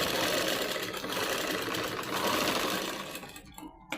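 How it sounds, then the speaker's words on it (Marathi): A sewing machine stitches a seam on a baby frock with a loud, steady, close-up whir for about three seconds, then slows and comes to a halt. "पहिले इथून अर्धा इंचावर शिलाई मारून घेऊया."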